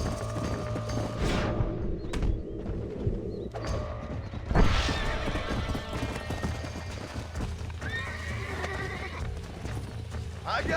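In the video game Red Dead Redemption, a horse whinnies loudly and its hooves clop, with creaking tack and mechanical game sounds beneath a busy, continuous mix.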